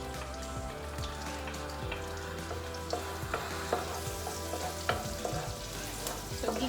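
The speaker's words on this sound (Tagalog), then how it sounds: "So, gigisa lang natin yung bawang." Garlic sautéing in butter in a pan, a dense continuous sizzle and crackle like rain on a surface, with faint scattered stirring clicks and a low background hum, steady and fairly quiet without speech.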